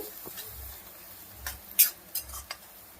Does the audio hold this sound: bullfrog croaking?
no